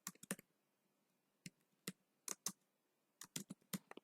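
Light, quiet clicks of typing on a computer keyboard, coming in short irregular clusters of keystrokes separated by pauses, close and clear with no talking.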